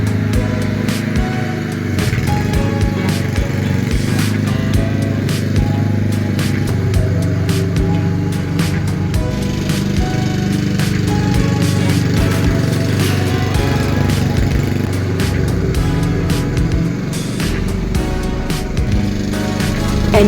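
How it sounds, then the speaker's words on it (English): Lawn mower engine running steadily and loudly at close range while being pushed through thick grass, a continuous drone that occasionally labors under the load. "I am struggling to push this mower through"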